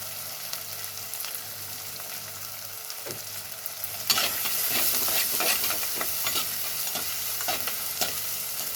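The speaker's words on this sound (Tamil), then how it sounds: "வெங்காயம் நல்லா வதங்குது." Onions sautéing in a pan for an anchovy fish curry: a soft simmering hiss at first, then louder continuous sizzling with repeated stirring scrapes from the middle onward.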